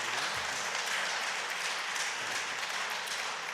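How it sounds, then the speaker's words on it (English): Round of applause at a city council meeting, honoring sailors and families of a ship, a bright, steady clatter of many hands clapping close by, sustained evenly throughout. "let's give them another round of applause"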